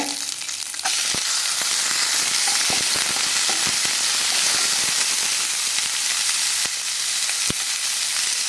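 Onions sizzle steadily in a hot pan for cabbage stir-fry, a continuous crackling hiss with occasional sharp pops and light stirring clicks.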